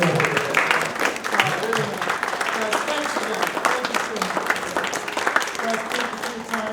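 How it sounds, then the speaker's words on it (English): Audience applause fills a hall after a school fiddle group's fall performance, steady and close throughout, with a voice speaking briefly over the clapping. "Give them another round of applause."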